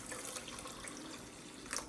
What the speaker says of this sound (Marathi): हे तांदूळ मी 2 पाण्याने स्वच्छ धुवून घेते